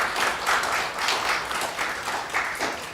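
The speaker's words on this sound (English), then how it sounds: "So I would ask everyone to give her a round of applause." Steady crowd applause with dense, continuous clapping from many hands, moderately loud and slightly distant, no voices standing out.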